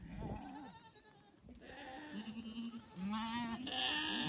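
A goat bleats several times nearby, wavering cries rising over quiet outdoor background, with a louder, higher bleat near the end.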